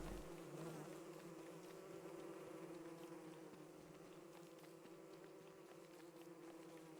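Bees buzz in the Don't Starve Together video game, a continuous, quiet droning hum of several insects that holds steady throughout with no talk.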